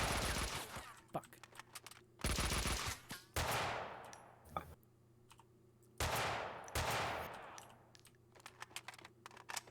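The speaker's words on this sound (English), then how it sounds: "Man, her sniper rifle rules." Sniper rifle fire in the video game Max Payne 2: several loud, sharp shots with long booming tails, spaced a second or more apart, over a low steady game hum.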